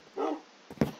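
Dogs barking in the Minecraft video game, two short yips a fraction of a second apart, fairly faint and alone.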